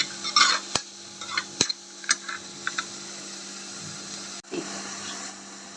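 Finely chopped onions sizzle in a pan while being stirred, with steady frying hiss and several distinct scraping and knocking strokes of the spoon close by.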